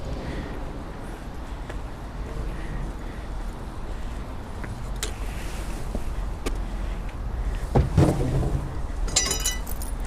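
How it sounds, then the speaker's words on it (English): Water laps and churns under steady wind noise in Peterborough, with a boat's low drone and a few sharp knocks and splashes toward the end. "Why is this boat coming towards me?"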